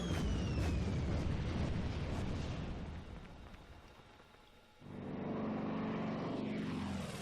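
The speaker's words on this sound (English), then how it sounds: "Another stupid bomber." A bomber aircraft in the WWII tactics game Graviteam Tactics roars with rumbling explosions and engine drone, fading down mid-clip before a loud low blast-like rumble surges back.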